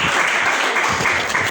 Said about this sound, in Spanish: ¿Cuánto le damos un aplauso a Jesucristo?